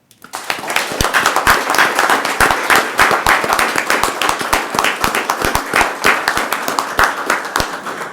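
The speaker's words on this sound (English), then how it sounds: "please join me in giving a round of applause to show our gratitude and appreciation for everyone's actions." Sustained applause fills a county board meeting room, many hands clapping loudly and steadily for about eight seconds with no speech over it.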